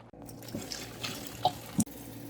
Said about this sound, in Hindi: इसके पानी को ड्रेन करेंगे।